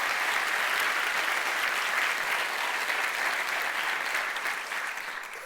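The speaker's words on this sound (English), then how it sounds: "Yeah, they deserve a round of applause." Warm, even applause from a conference audience at the Aarhus 2017 European Capital of Culture programme presentation, a dense continuous wash of clapping that holds steady and then begins to fade.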